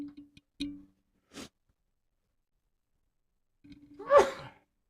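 A person sneezes: a few short gasping intakes and sniffs lead to one sharp, forceful sneeze near the end, close up in an otherwise quiet room.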